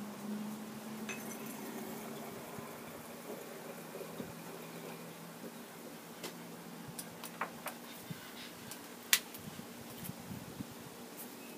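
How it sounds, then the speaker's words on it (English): Glass apparatus is set up while hydrochloric acid is added for making nitric acid, with faint, sparse glassy clinks and ticks, one brighter clink standing out over a quiet steady background hum. "Set up your apparatus and add the hydrochloric acid."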